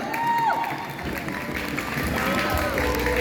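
A school audience at a student ambassador final at a senior high school in Serang claps and cheers in a hall. The crowd noise is dense and continuous, with voices mixed in throughout.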